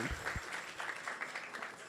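Audience at a Sunday temple feast program clapping together, a soft, even patter of many hands heard from a distance, fairly faint and steady for a couple of seconds.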